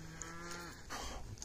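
Cattle in a herd being worked on horseback, with a calf just returned to its mother, let out a long low moo followed by further lowing, close and clear with no talk.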